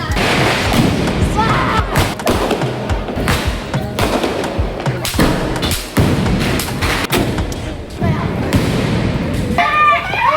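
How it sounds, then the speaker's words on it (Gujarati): Diwali firecrackers burst repeatedly on an open ground, with sharp loud pops and crackles close by over a continuous noisy background. Some whistling rockets and excited voices are mixed in. "પછી અમે સંકેતભાઈ હાથે આવી ગયા મેદાનમાં ફટાકડા ફોડવા."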